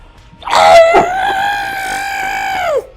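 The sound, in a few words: player imitating a monster's loud scream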